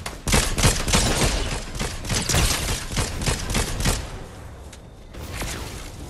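Rapid volleys of video-game gunfire crack out in a dense burst of repeated shots for several seconds, then thin out to a few scattered pops as things go quieter.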